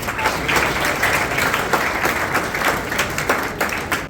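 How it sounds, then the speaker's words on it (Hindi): Children at a school Olympiad certificate and prize ceremony clap for themselves, a steady dense wash of applause with no pauses from start to finish. "मैं चाहूंगा कि सबसे पहले वो बच्चे अपने लिए खुद अपने लिए तालियां बजाएं।"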